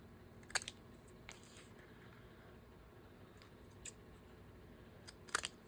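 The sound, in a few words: scissors cutting paper tickets into tags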